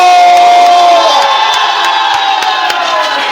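A church congregation cheers and shouts in acclamation of Jesus during a praise and worship service, a loud, sustained crowd roar with scattered whoops that continues throughout.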